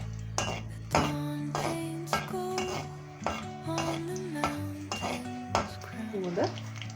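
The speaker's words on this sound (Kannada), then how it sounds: "ಹಸಿಮೆಣಸು ಸ್ವಲ್ಪ ಫ್ರೈ ಆಗಲಿ" Green chillies frying in a pan, stirred with metal utensils that clink and scrape in an uneven rhythm over a low steady hum, close by, without speech.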